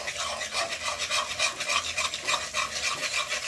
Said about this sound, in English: I'm going to stir it here, like this